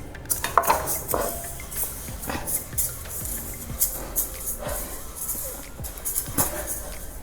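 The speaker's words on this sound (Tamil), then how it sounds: "அடுப்பில் கடாய் வச்சுட்டு இந்த அரிசியையும் பருப்பையும் நல்லா சிவக்க வறுத்துக்கணும்" Rice and lentils are dry-roasted in a metal kadai, stirred with a utensil that scrapes and clinks against the pan in an irregular, close, fairly loud rhythm.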